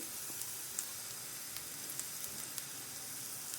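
Medium onions cut into rings sizzle in hot oil, giving a steady, close hiss with a few brief crackles throughout and no voices.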